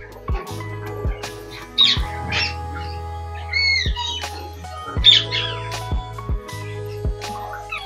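A pair of brown lory parrots in a cage give sharp squawks and short chirping calls, scattered and fairly close, with some whistled notes in between.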